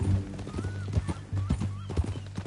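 Horse hooves clip-clop in a steady walking rhythm in the video game Red Dead Redemption 2, close and clear, with a brief whinny rising above the plodding steps.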